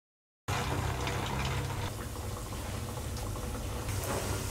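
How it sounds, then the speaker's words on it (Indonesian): Tofu balls fry in hot oil over medium-low heat, giving a dense, continuous sizzle with crackles and pops after a brief silence. "Ini tahunya kita goreng dengan api sedang cenderung kecil ya"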